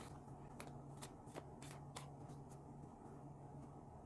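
A deck of tarot cards is shuffled in a quiet room, with soft crisp riffles and snaps repeating every half second or so, faint and close.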